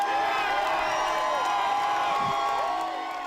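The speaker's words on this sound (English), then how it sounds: "Luther tore up the citation to the cheer of the crowd." A crowd cheers and whoops at a Dallas protest as a salon owner tears up a citation, a dense, steady wall of voices with shouts rising over it throughout.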